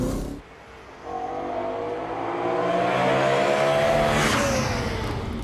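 A BMW M3 engine drones steadily, its pitch rising gradually as it accelerates, heard from inside or close by with no talking.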